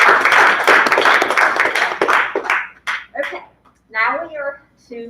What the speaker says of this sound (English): So let's give our JV team a round of applause, please.